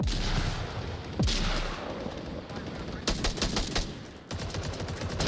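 Rapid automatic gunfire and scattered shots in the virtual reality shooter Onward, during a competitive four-versus-four championship match, loud and dense with bursts throughout and some background voices.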